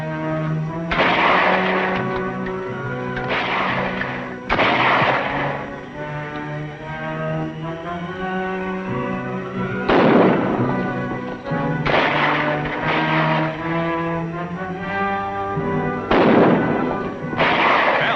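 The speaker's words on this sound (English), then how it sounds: "Hey, wait a minute. That's gunfire." Scattered gunshots ring out at irregular intervals, sharp reports with echoing tails over a droning, tonal musical background.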